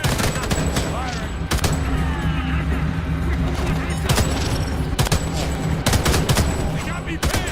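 Heavy gunfire in Homefront: The Revolution, dense automatic bursts repeating throughout over a constant roar of battle noise, with impacts and sharp cracks standing out near the listener.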